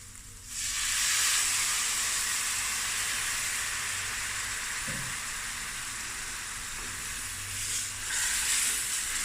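Onions and spices sizzling in a pot for a tripe curry, a loud steady frying hiss that jumps up as they hit the heat, with a faint stir partway through.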